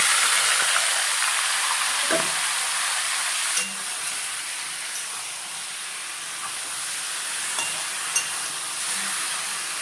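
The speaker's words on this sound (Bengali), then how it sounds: "এখন মেখে রাখা মাংসটা দিয়ে দিলাম" Marinated chicken meat, for a potato and country chicken curry, sizzles steadily in a pan after cardamom, cinnamon and cloves, a constant loud hiss with a few faint stirring clicks, no talking.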